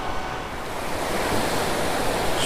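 Sea waves break in the surf along a saltwater beach, a continuous rushing roar with some wind buffeting the microphone and no voices.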